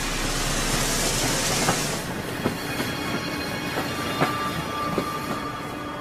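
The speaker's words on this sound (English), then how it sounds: "Tanner and Muller's ship docked at Liverpool, from where they took the train south" A train running on rails, steady rumbling wheel noise with a brief hiss at first, then a series of sharp periodic clicks from wheels passing over track joints.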